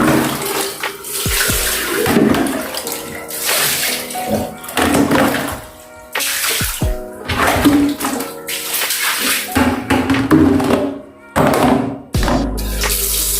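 Water is poured into a toilet to show how it flushes, a gushing, splashing pour that surges and pauses in uneven bursts, loud and close.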